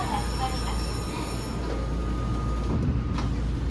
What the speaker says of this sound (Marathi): ट्रेन सुरू होते, दरवाजे बंद झाले.